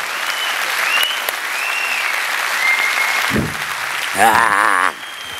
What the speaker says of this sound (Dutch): een applaus voor Zot